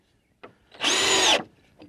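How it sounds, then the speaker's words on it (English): Power drill driving into wood during shed construction on a farm: a single loud, continuous high-pitched whir lasting about half a second, framed by faint clicks and handling noises, with no talking. "Do you want to take that drill and drill that in?"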